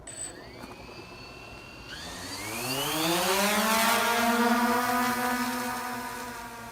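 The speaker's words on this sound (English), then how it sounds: "So I'm gonna launch the drone" A drone takes off and climbs away, its motors whining higher and louder as the rotors spin up. The tone rises into a steady, sustained buzz that sits close and fills the space.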